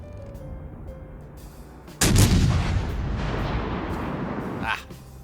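Naval artillery salvo firing in World of Warships: Legends, a sudden loud blast followed by a long rumbling roll that fades after about three seconds, over quieter game ambience with some voice.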